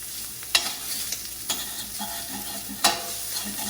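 Ground sausage sizzles steadily in a hot pan while a utensil mashes and scrapes it, giving three sharp clacks against the pan over the continuous frying hiss.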